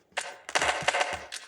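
Bursts of gunfire in Melon Playground crack out in a rapid, uneven cluster of sharp shots, close and fairly loud, with no talking.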